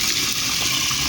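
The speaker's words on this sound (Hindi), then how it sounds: "चला दिया है पानी" Water gushes steadily into a tub on a rooftop terrace in the morning, filling it to soak a blanket for washing; a continuous, full, hissing rush with no pauses, close by.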